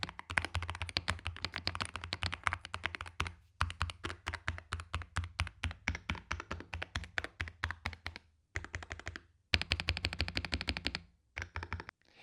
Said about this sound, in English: has some of the best sound of the keyboards I've used as well